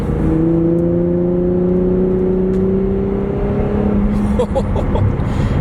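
Infiniti Q60 Red Sport being driven in Sport Plus, steady engine drone with falling tones as it downshifts near fourth gear, loud cabin sound with a brief rev burst near the end.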